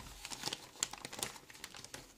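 A hand rummaging through a crinkly plastic bag that holds plaster and little molds, rustling and crackling in irregular close-up bursts, with no talking.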